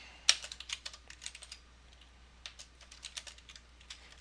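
Fingers type on a computer keyboard, giving quick bursts of light clicking keystrokes, a short pause and then another run of taps, close and fairly quiet.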